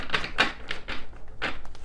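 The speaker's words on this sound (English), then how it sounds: "I need to shuffle my deck." A tarot card deck being shuffled: a quick run of crisp, papery riffling bursts, close and fairly loud, with short gaps between them and no talking.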